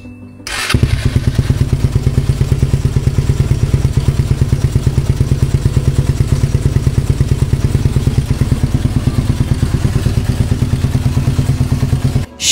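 A Suzuki Raider 150 motorcycle fitted with a Creed exhaust starts up and idles loud and close, a fast, even thumping exhaust pulse running steadily throughout with no voices.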